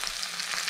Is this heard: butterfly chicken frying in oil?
yes